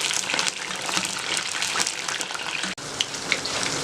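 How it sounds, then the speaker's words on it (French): Aubergines sizzle and spit in a hot pan, a steady loud frying hiss with a brief drop in the middle before the crackle resumes. "je sais pas si vous entendez à côté mais c'est les aubergines qui sont en train de cuire"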